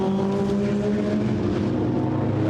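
Racing cars in a Brabham Trophy circuit race drone past with steady engine notes, several overlapping loud engines holding pitch under general track noise, without talk.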